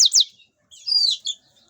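Domestic canaries kept in a cage give a few quick, bright chirps, a pair of sharp high notes followed after a pause by a longer warbling twitter, close and clear with no talking.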